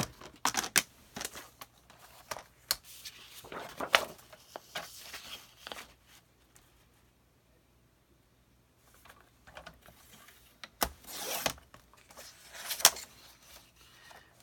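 A paper piece for a travel folio album is cut with a paper trimmer, giving several close, sharp clicks and sliding scrapes in bursts separated by a long quiet gap.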